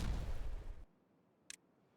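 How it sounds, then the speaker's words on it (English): Dynamite blast in the Timberborn building game, a loud, deep rumbling explosion that cuts off abruptly, followed by near silence and one short sharp click. "First explosions of the map."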